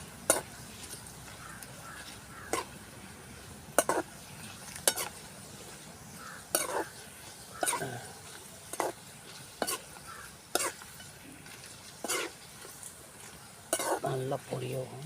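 Papad (appalam) frying in hot oil in a village kitchen, with a steady sizzle broken by repeated sharp utensil knocks and stirring clatters against the pan, close and fairly loud, with no talking.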